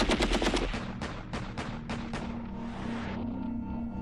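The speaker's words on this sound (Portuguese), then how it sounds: "O israelense mira a sua Kalashnikov. A metralhadora não tem silenciador." A Kalashnikov machine gun without a silencer fires a rapid burst of loud, close shots in the first second, followed by several spaced single shots. Each report echoes, and the firing is set at an airport during the 1976 Entebbe hostage rescue.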